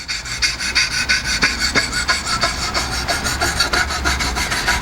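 A knife blade scrubbed up and down with light pressure on Wicked Edge sharpener stones, giving a steady, close, rhythmic rasping of even back-and-forth strokes with no talking.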